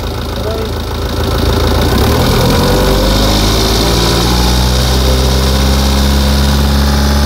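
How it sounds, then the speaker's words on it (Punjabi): A Tata Yodha pickup's diesel engine runs close and loud, a steady low idle rumble that rises as it is revved, with heavy vibration throughout. "ਐਡਲਿੰਗ ਰਨਿੰਗ 'ਤੇ ਚੱਲ ਰਹੀ ਹੈ ਕੁਛ ਸਮੇਂ ਵਾਸਤੇ।"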